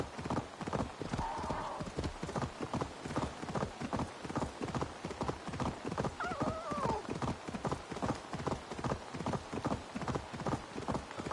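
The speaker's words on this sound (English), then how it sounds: "I do like the sound effects of like the horse's hooves on the ground." Horse hooves clop steadily and rhythmically over the ground in Assassin's Creed Valhalla gameplay, a continuous close trot with a couple of faint whinnies.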